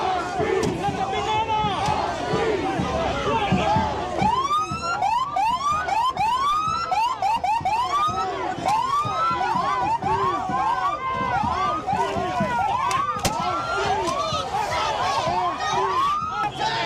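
A police car siren wails in repeated rising and falling sweeps amid a crowd of protesters on a Los Angeles street, loud and close throughout, with shouting voices underneath.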